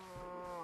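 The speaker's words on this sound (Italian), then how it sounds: "Mucca." A single cow moo from the video game Minecraft, a short low drawn-out bellow with a steady tone, close and alone.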